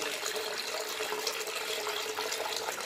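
Water runs steadily into a toilet cistern that has an overflow problem, a continuous, moderately faint rushing and splashing flow close by.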